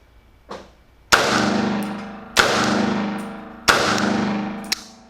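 Three loud, sharp metallic shots from a Palmetto State Armory PSAK-47 G3 carbine at a range, evenly spaced with ringing decay after each, preceded by a softer click.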